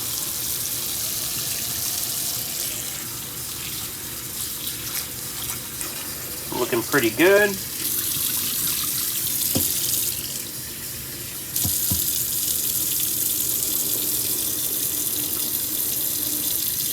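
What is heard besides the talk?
tap water rinsing egg shells in a container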